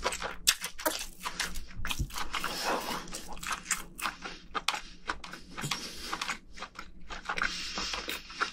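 Someone eats lobster dipped in its innards, with close, loud crunching and wet chewing in irregular bursts throughout and no talk.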